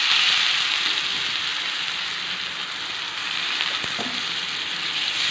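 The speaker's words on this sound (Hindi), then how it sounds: "अब इसमें डालूंगी भिगी हुई कसूरी मेथी" Soaked dried fenugreek leaves (kasuri methi) dropped into a hot pan with red chili powder, giving a loud, continuous, close sizzle that holds steady throughout.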